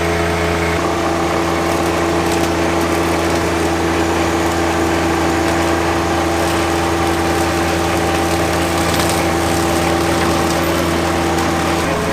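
A tractor pulling a brush hog mower drones steadily while cutting brush, a loud continuous engine and blade hum heard up close with no talking.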